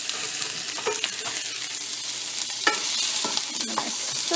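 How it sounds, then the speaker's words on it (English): Food sizzles steadily in a hot pan, with scraping and clinking of a utensil as it is stirred, no voices present. "Ready for the sizzle."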